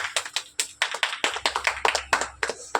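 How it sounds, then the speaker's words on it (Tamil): Children at a Bible school clapping their hands in a quick, uneven run of sharp claps, close and fairly loud, with no talking. "கைத்தட்டுங்க எல்லாரும்."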